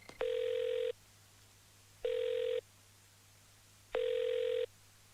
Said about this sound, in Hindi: बजते रहो, उठाऊंगा ही नहीं।